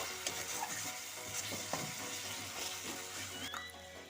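Tomato sizzles in a pan with fried ginger, garlic and onion for a village-style desi chicken curry, a soft, steady crackle broken by occasional scraping stirs, quiet and close.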